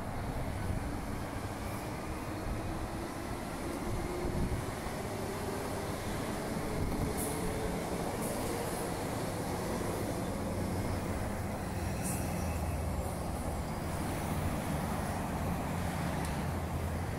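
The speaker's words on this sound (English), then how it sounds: "You can see a train's pulling in right now." Steady low rumble of a train rolling into Glendalough Station, continuous and moderately distant, with faint squeals and station ambience and no voices.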